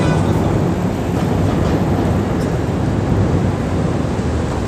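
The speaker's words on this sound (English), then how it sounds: "This fucking train." A train rumbling past on rails outdoors, a loud continuous roar with rolling low-end noise that fills the whole stretch without a break.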